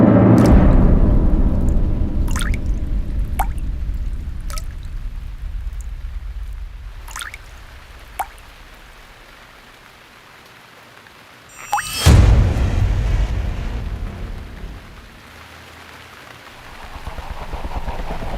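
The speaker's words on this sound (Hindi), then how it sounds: "पानी कहाँ टपक रहा है? लगता है किसी ने नल खुला छोड़ दिया है।" Water drips from a tap left open, sounding as scattered single drops over a broad rushing hiss, with a sudden loud whoosh midway before the hiss settles again.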